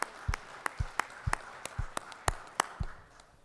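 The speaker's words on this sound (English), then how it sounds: "Y'all give our pages a big round of applause." A small group in a state Senate chamber claps for the Senate pages: a sparse, uneven round of distinct hand claps, fairly close and brief, with no talking over it.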